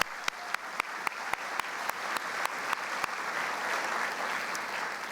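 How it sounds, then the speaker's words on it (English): Sustained audience applause at a hospital foundation gala honouring sponsors, a dense wash of clapping with a few sharp louder claps standing out near the start, steady and full throughout without voices. "Let's give them one more round of applause"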